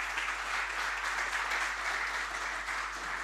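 Dense, steady audience applause fills the room after a conference paper award is announced, sustained clapping at an even level throughout with no voices over it.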